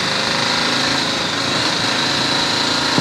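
A BMW motorcycle engine runs steadily with a high, buzzing tone at a Berlin motorcycle event, held at a fairly constant throttle and heard close and alone for a few seconds.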